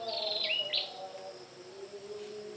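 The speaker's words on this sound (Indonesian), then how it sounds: "Suara burung liar di pagi hari." Wild birds sing in the morning with a few high, sweeping chirps near the start, then softer, steady calls and faint insect-like buzzing in the background.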